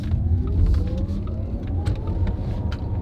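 Tesla electric car pulling hard on a test drive, a steady low road rumble with a faint rising motor whine building under the cabin noise, close and continuous.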